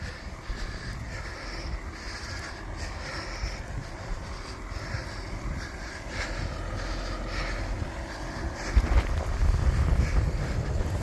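A strong southeast wind roars through an April snowstorm around farm windbreaks, a continuous rushing buffet with mic rumble that grows heavier and gustier toward the end, with no talking.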